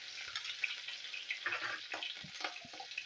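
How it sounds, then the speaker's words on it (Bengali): Chopped green chillies hit hot mustard oil with five-spice tempering and fry with a soft, quiet sizzle, with occasional light stirring clatters and pops. "এবার দিয়ে দেবো কাঁচা লঙ্কা"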